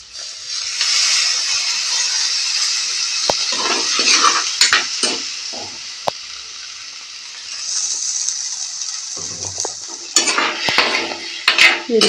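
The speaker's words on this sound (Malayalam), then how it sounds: "ഇത്തിരി മഞ്ഞൾപ്പൊടി ഇട്ട് ഇളക്കി യോജിപ്പിച്ചിട്ട്" Onion curry cooking with turmeric, salt and tamarind water, stirred in a pan with a steady loud sizzle and scraping spoon strokes against the metal, some clinks near the end, no voices.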